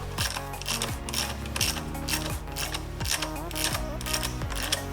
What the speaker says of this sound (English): get the ratchet. And I'll do it tight, but not too tight